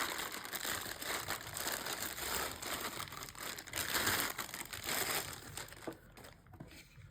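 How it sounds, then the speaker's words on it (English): Plastic packaging crinkles and rustles steadily and close up as a Uniview EK-S31P4T44T1-V2 security camera is pulled out during unboxing, then quiets near the end. "Let's pull that out of its plastic packaging."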